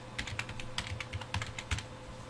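Rapid typing on a computer keyboard while a file name is entered for a USB disk, a steady run of close, crisp key clicks with no talking.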